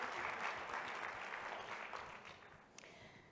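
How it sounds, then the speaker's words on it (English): Soft, distant applause from an audience at a EuroELSO 2023 plenary session welcomes guests onto the stage, a dense wash of clapping that gradually fades, ending with one sharp knock. "So, an applause, please."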